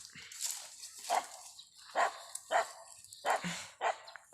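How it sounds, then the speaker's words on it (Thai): A dog barks repeatedly in short, sharp bursts about every half second, fairly close, with a faint high hiss in the background. "ได้ยินเสียงสุนัขแล้วนะครับ"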